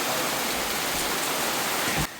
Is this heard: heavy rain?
yes